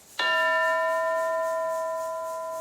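One bell strike rings out in a classroom lesson, a bright, clear metallic tone that sustains and slowly fades, heard alone and close.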